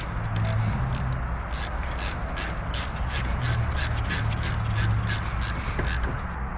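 A ratchet tightening bolts on a Honda Civic during brake work, a close, steady series of rapid metallic clicks in short repeated strokes, with faint low background noise and no talking.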